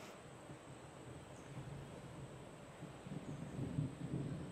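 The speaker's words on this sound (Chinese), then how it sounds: "又有打雷的声音" Faint, distant thunder rumbles low and steady during a storm at Ozark National Scenic Riverways, swelling slightly toward the end amid soft wind noise.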